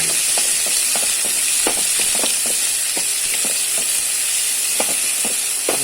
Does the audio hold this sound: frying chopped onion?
yes